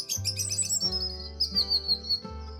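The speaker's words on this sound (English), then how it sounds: "Reunited, the swallows chirped joyfully together." Swallows chirp together in quick, bright, repeated tweets over a soft musical backing, close and lively for a few seconds.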